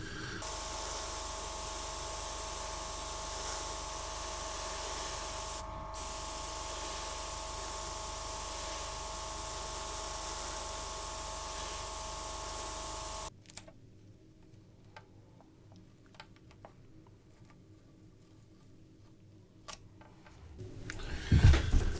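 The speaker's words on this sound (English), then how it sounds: "the trick with these smaller masks is just to mist on the colour." An airbrush misting paint over small masks on a 1/32 Avro Lancaster scale model gives a steady close hiss that runs for about thirteen seconds and then stops, followed by quiet faint clicks and handling noises.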